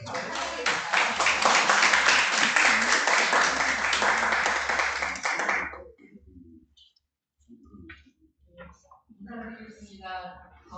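Audience applause fills a community conference hall in Yeonsu-gu, Incheon: dense, steady clapping from a crowd for about six seconds, then fading out before a voice begins speaking.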